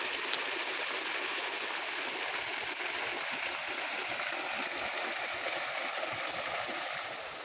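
Spring water pours and rushes through pipes at the Sagurong spring resort in Castilla, Sorsogon, a constant bright watery hiss with soft gurgling, steady and close, without any talking.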